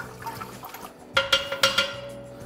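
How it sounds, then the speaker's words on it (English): Hot beer wort sloshes and swirls as it is stirred in a BrewKeg brewing vessel, a soft liquid churn followed by several louder splashing strokes close by. "That's a nice stir."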